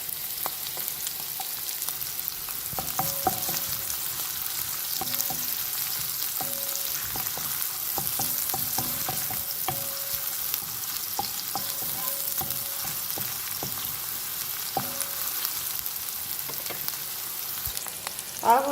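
Onions fry in oil in a pan for chicken sambusa, a constant soft sizzle with scattered clicks and taps of a utensil moving through them.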